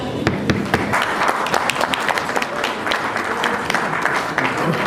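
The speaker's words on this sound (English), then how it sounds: "Please clap." Applause from an award ceremony audience, with individual claps standing out sharply over a continuous wash of clapping and a faint murmur of voices.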